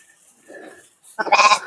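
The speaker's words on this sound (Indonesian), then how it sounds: "Mau ngasih makan kambing" Goats bleat while being fed at a farm: one clear, wavering bleat sounds near the end, loud and close, after a quieter stretch of faint shuffling.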